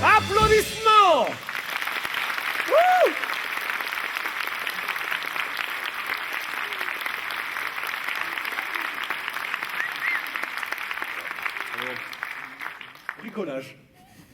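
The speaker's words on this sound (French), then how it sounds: "Et applaudissements." Audience applause and cheering fill an outdoor jazz concert in the woods, a sustained wash of clapping that starts right after a shout and fades out near the end, with brief voices at the start.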